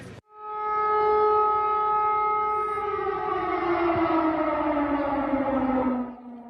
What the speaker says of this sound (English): The sound of air raid sirens ringing and tanks firing is an ever-present reminder